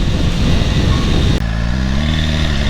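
A BMW S1000RR motorcycle cruising at an easy pace past fields, its engine droning loud and close with wind rush, settling into a steadier, more tonal hum partway through.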